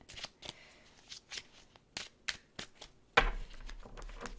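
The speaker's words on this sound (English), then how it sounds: "I just started shuffling the deck" A tarot card deck being shuffled by hand, with soft papery riffles and flicks in irregular bursts, fairly quiet and close, ending in a brief louder rustle.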